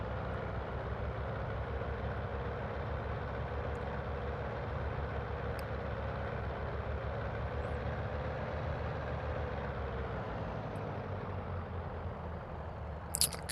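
Simulated DHC-1 Chipmunk light aircraft engine from Microsoft Flight Simulator, a steady, even drone that holds unchanged throughout, with no talking.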